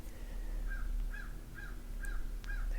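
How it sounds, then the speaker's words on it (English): A bird gives a run of five evenly spaced, crow-like caws from a short distance, fairly faint over a steady low hum. "There's a bird agreeing with me."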